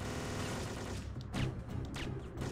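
Rapid bursts of gunfire in a retro video game, sharp cracks crowded together over a dense, steady background of game sound, fairly faint and with no talk.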